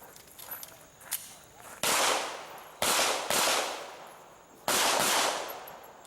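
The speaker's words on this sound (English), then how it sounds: "First he engages the 3 threats with 2 rounds each minimum." Pistol shots on an IPDA match stage at an outdoor range, three loud cracking reports spaced about a second apart, each with a long echoing tail, after lighter background noise.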